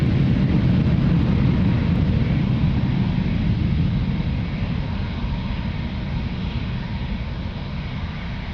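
A fixed-wing airliner takes off from runway 02 at Lisbon Airport, heard as a steady, loud, broad engine roar that holds throughout and eases off slightly toward the end.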